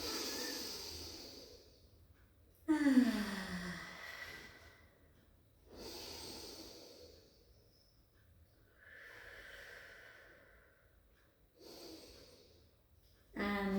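Slow, deliberate breaths drawn in and released during a Pilates exercise class, several audible inhales and exhales spaced across the clip with quiet gaps between, close to the microphone.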